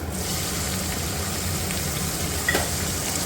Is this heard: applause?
no